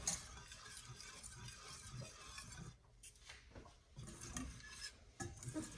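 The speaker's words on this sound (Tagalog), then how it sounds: "stir na natin siya ng dahan-dahan in a medium-low heat flame" Yema cake filling is stirred slowly in a pan over medium-low heat, a steady soft scraping and swishing with faint rubbing of the utensil against the pan, close and quiet.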